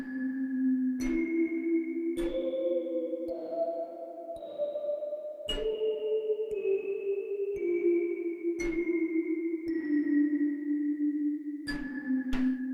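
Sustained instrument notes played through an Empress reverb pedal, sharp attacks blooming into long, shimmering decaying tails, several successive tones changing pitch every second or two, with no voices.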